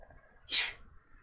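A single short sneeze, sharp and breathy, over faint background hum.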